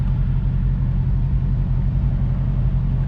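Dodge Charger Hellcat V8 in 707 mode, a steady deep low rumble held at constant loudness, close and continuous without revving or speech.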